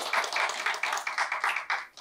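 Audience applause at a French-language televised talk show as a guest is introduced, rapid overlapping claps forming a steady, fairly quiet wash that runs throughout with no voices.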